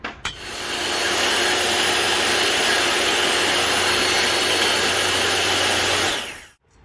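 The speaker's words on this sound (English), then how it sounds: "Now we drill." A power drill bores into a welded metal T-handle grab bar for a Jon boat: one loud, continuous whirring grind that starts almost immediately, holds steady for about six seconds, then cuts off abruptly.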